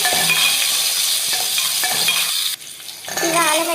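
Onion and curry leaves fry in hot oil in a pot as a spoon stirs them, bringing a steady broadband sizzle with several clinks against the pot and a brief quieter gap near the end.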